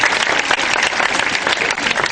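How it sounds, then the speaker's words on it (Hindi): Studio audience on a Ramadan transmission show clapping together, a dense, loud, even burst of applause lasting a couple of seconds with no voices over it. "तालियां बजाएं।"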